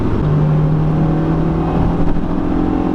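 A loud stock Honda S2000 engine rumbles and revs, with pitch shifting as it downshifts; steady, close engine drone throughout with no talking.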